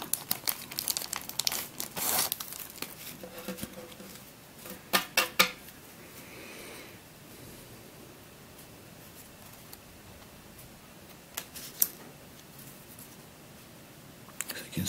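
Plastic packaging holding Megaminx puzzle stickers crinkles and rustles up close, in bursts of handling noise with quieter stretches between and a few sharp ticks.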